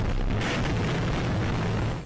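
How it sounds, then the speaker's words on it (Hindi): Loud explosion from an air strike on Kharkiv, captured in news footage: a sustained, heavy low rumble filling about two seconds and fading at the end, with no voices. "खार्किव में इन्हीं हवाई हमलों के एक वीडियो में जोरदार धमाके की आवाज सुनाई दी"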